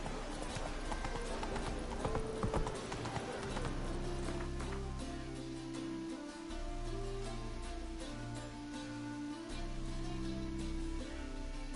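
Roach, a horse in the video game Witcher 3, trots with steady, close clip-clopping hoofbeats over continuous game music, with a brief lull partway through.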